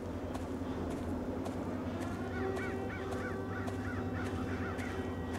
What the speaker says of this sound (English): I hear you, Mr. Raven, Mr. Crow.